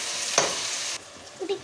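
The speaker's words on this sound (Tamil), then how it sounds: "எல்லாத்தையும் நல்லா கலக்கி அடி பிடிக்காமல்" Mushroom rice frying in ghee in a pan, stirred with a steady sizzle and a sharp scrape of the spoon, after which the sizzle drops away and a few soft clinks follow.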